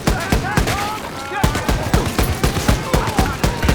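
A Kugelhammer shotgun in a first-person shooter fires in a fast, steady string of loud blasts, roughly four per second, with a continuous background of game noise underneath.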